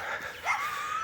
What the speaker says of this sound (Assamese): এইপিনে কুকুৰকেইটা কাকবা ভুকি আছে